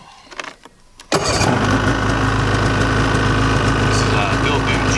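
A Polaris 800 snowmobile engine cranks and fires at about one second, then holds a loud, steady near idle with a strong low rumble, following quiet handling noise and brief talk.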